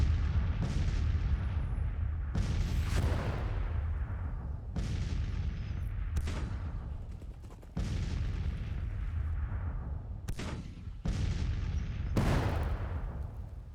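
Artillery booms and gunfire from Grand Tactician: The Civil War battle, a string of heavy blasts every second or two over a continuous rumbling battlefield din, no talk.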